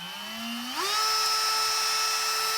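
A compact battery-powered Newone rotary tool, similar to a Bosch 12-volt model, whines steadily and then jumps to a higher, louder pitch as its speed rises, running alone up close.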